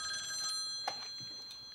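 A telephone bell ringing faintly in an interior, a metallic trilling ring with a soft knock midway and no voices.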